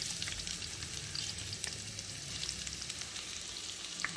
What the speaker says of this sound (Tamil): வெங்காயம், தக்காளி, பச்சை மிளகு எல்லாம் போட்டு வணக்கணும்